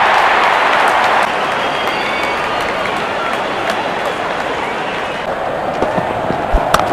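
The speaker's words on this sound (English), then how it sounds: "the crowd cheering in anticipation" A large stadium crowd at a T20 World Cup cricket match between India and Zimbabwe cheers and applauds in a broad, continuous roar that eases slightly after a second, with scattered louder claps near the end.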